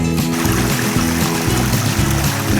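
A small waterfall on a creek at Tub Run pours and splashes in a steady, close, continuous rush with no break, and no voices over it.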